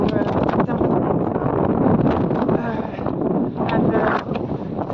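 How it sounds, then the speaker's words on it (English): Strong wind buffets the microphone aboard a sailboat under sail, a loud continuous roar and rush with gusty swells, carrying on without a break. "the wind really picked up"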